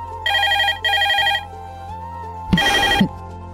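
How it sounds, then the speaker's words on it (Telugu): A home telephone rings in two even bursts, then a brief pause and a third ring that is louder and harsher, close by and with no one talking. "అదిగో ఫోన్ రింగ్ అవుతోంది."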